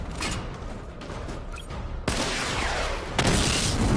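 A Batman: Arkham Knight missile barrage launches, with a rumbling wash of rocket fire and explosions building to sharper blasts near the end, loud and continuous with no talking.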